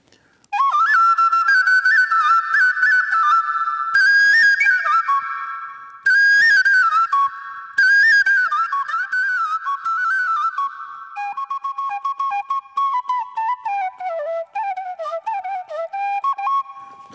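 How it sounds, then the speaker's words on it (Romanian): A Romanian fluier shepherd's flute from Chișinău plays a lively, ornamented folk melody alone, clear and close, with brief pauses between phrases. "Așa, ăsta e un fluier din Chișinău, dar e fluier de fluier."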